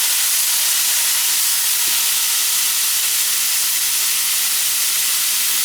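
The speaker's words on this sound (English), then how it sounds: "Beef is browning." Ground beef sizzles in a cast iron skillet, a steady close hiss of browning meat that holds constant throughout with no talk.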